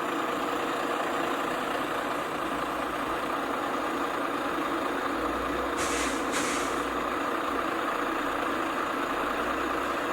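A heavy truck idles steadily with a loud, continuous engine rumble, and a short double hiss of air brakes bursts out near the six-second mark before the idle carries on alone.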